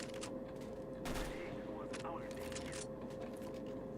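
Gunfire in the video game Counter-Strike: Global Offensive comes in several short, faint bursts spread across a few seconds over a low, steady background hum.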